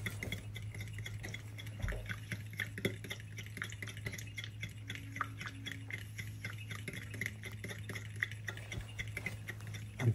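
A spoon stirring a homemade vanilla cheesecake mixture in a bowl, with repeated soft clinks and scraping ticks at a steady rhythm over a low background hum, close and fairly quiet, no talking.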